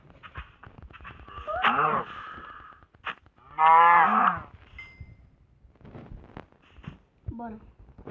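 Cow moos from the Minecraft morph mod, two loud drawn-out bellows close by, with shorter fainter lowing and clicks around them and a player's voice speaking between the calls.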